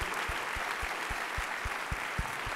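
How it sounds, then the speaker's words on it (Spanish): A church congregation applauds during a Spanish-language Sunday service, a steady, fairly quiet wash of many hands clapping, with a few sharp low thumps recurring at irregular intervals through the two and a half seconds. "Fuerte aplauso con Pastor David y familia."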